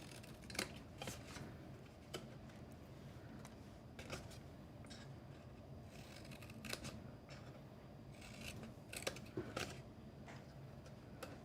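Scissors making miter cuts through paper while building a split-lid gift card box, heard as soft snips and crisp clicks scattered across the clip over faint rustling, close and fairly quiet, with no talking.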